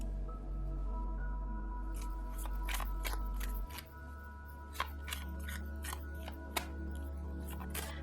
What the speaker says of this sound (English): let me get out 3 more cards